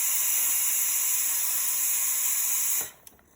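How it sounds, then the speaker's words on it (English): Steam hisses loud and steady from the wand of a Breville Dual Boiler espresso machine freshly flushed after descaling, then cuts off abruptly near the end, leaving near silence. "Steam is working fine."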